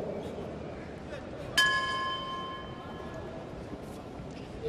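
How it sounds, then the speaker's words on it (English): Boxing ring bell at a 2012 Olympic qualifier light flyweight bout, a single bright clang that rings and decays over the steady hum of the arena crowd. "That's the bell for round number 3."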